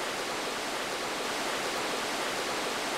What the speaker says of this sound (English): we get a beautiful cutscene of the waterfall and the water gate